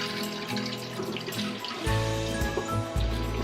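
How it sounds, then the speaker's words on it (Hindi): Soaked lentils and water are poured into a pressure cooker, making a gurgling, splashing stream that grows fuller and heavier partway through, close up and with no one talking. "तो इस तरह से हमने दाल और पानी कुकर में डाल लिया।"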